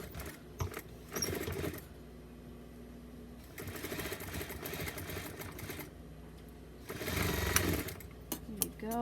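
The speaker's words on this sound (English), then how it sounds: "let's go and sew the side" Sewing machine stitching the side seam of a doll bodysuit, a quiet steady run broken into several bursts of rapid needle clatter with brief pauses.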